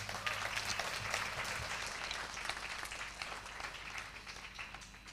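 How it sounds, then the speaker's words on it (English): Applause from an audience after a stage performance, steady dense clapping heard at a distance and fairly faint throughout. "Let's give them another huge round of applause."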